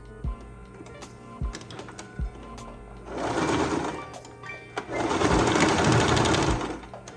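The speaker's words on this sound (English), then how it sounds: "after you fold it, do a couple front and back stitches" A sewing machine stitches fabric back and forth for a folded hem, with a few sharp clicks and taps, then two loud, close whirring bursts of rapid stitching separated by a brief pause.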